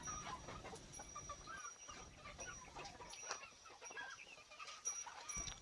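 Free-range desi country chickens cluck and chatter softly at a distance, with scattered calls over quiet outdoor background noise on a hill farm.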